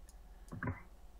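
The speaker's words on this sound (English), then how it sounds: "Oh, it's somebody typing." Faint keyboard typing picked up over a voice chat during a Minecraft raid session: a few quiet clicks, closing in one slightly louder tap.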